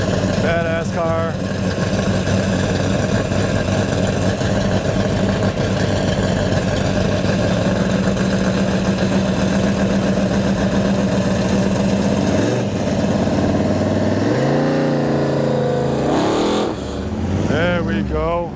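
A Mopar muscle car at a Woodward Dream Cruise gathering at the Donut Cutter rumbles at a loud, close idle, then revs in rising bursts near the end, while people talk over it.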